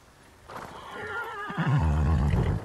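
A horse in the video game Ghost of Tsushima gives a loud, close whinny that rises and then drops into a shuddering low neigh, with faint background ambience beforehand.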